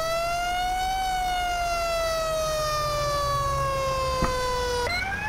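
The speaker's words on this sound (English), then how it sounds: "let me know which siren you guys like better" A loud, steady fire engine siren in GTA 5 wails on one slowly falling tone, then jumps abruptly to a higher pitch near the end.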